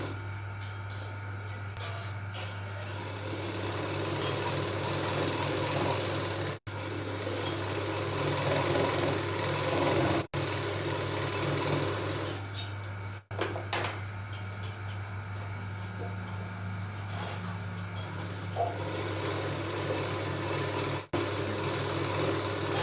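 A sewing machine stitches a saree blouse with a steady, droning motor hum and a continuous mechanical whir, broken by a few brief pauses as the fabric is turned, close and fairly loud with no voices.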